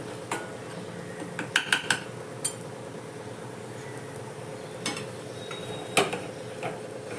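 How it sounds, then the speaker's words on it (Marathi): Gram flour roasting in a pan while dum aloo cooks, heard as scattered clinks and scrapes of a spoon against the pan over a faint steady hiss, with a brief cluster of taps early on; no talk. "हे बेसन पीठ आपण याबरोबर भाजून घेऊयात."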